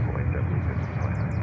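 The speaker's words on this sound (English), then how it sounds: "JetBlue leaving on 3-1 left." JetBlue airliner departing JFK on runway 31 left, heard as a steady, broad jet roar with a low rumble, held at constant loudness through the brief moment.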